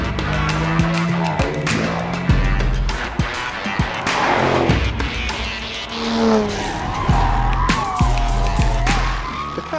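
Performance cars driven hard around a race track during a car-of-the-year evaluation, with loud engines revving and shifting, tyres squealing and skidding through corners, and cars passing close by one after another.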